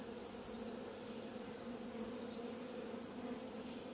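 A small swarm of Italian honeybees hums softly and steadily throughout, a continuous low buzz with a few brief higher passes of single bees flying close by.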